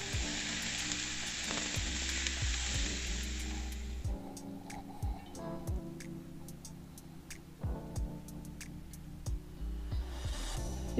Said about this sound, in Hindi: तड़के विच असीं नॉर्मल जिवें ऑयल पाया, राई पाई है, कड़ी पत्ता पाया, प्याज पाए, शिमला मिर्च पाई है ते सारे नूं अच्छी तरह नाल पका लेंगे।